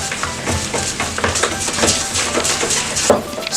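Eggs being mixed into chocolate chip cookie dough in a bowl, a steady scraping and clinking of a utensil against the bowl, moderately loud with irregular strokes and no speech.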